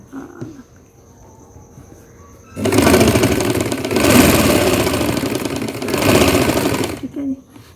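An electric sewing machine stitches lining onto a kameez, running in a loud, steady whirr for several seconds after a quiet start, briefly rising in pitch midway, then stopping near the end.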